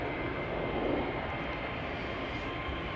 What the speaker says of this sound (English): Another rare Embraer, which is also what is going to take off over here in a moment.